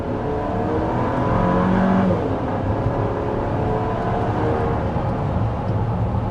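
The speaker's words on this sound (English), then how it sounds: "that was an acceleration from a complete stop, going a bit downhill" A 2024 SUV, either a Chevy Traverse RS or a Toyota Grand Highlander Platinum, pulls away from a complete stop on a slight downhill. The engine drone builds steadily and stays continuous and moderately loud throughout, with no voices.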